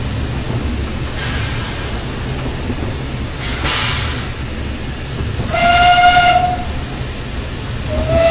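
A steam locomotive whistle on Corris No. 7 in Train Simulator 2016 sounds in short shrill blasts over the rumble of the train, with a longer sustained blast toward the end.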